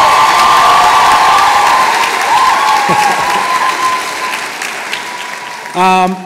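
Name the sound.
audience applause at graduation ceremony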